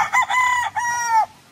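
A rooster crows loud and close among gamecocks kept as fighting birds of grey and other bloodlines, a single long cock-a-doodle-doo with a brief break midway, with no talk over it.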